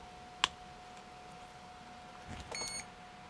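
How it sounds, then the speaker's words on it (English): A DVW Microelectronics Husky computer answers a keyboard press with a sharp click, then a short, high electronic beep over a faint steady hum. "And it does, complete with a beep."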